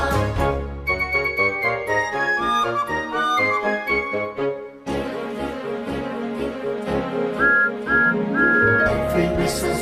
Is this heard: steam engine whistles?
yes